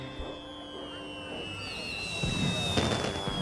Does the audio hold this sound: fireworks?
yes